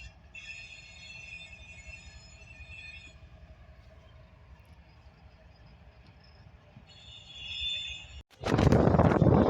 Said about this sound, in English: Next up was a westbound loaded coke train on the CSX B&O sub